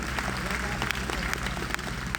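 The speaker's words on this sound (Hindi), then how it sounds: "कृपया तालियों से धन्यवाद दें" Audience applause at a formal event in India, a steady dense clapping wash that fills the short moment under faint room noise.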